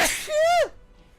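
A single sneeze during a tabletop D&D session, a sharp breathy onset followed by a rising-and-falling voiced burst, close and fairly loud, then quiet.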